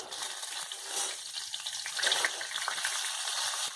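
Curry leaves dropped into hot oil with cumin and dried red chillies for a dal tempering, a steady close crackling sizzle that flares briefly partway through, alone with no talk.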